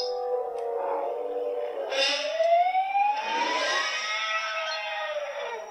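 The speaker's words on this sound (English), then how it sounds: "It's like a siren and a man screaming." A film sound effect, original version, blending a wailing siren with a man's scream, the pitch sweeping upward and wavering, played on its own at moderate loudness.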